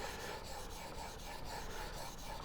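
Steel blade being ground on a fast-cutting sharpening stone, leaving grey slurry: a steady, close scraping rasp with even back-and-forth strokes and no voices.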